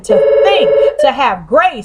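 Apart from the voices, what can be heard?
telephone ringing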